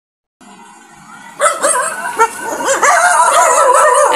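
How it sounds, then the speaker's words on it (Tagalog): Several dogs bark, yip and whine noisily outdoors on a street in Bacolod City, Philippines. The loud, overlapping calls keep up without a break. "Ang ingay-ingay ng mga aso mga kapapa."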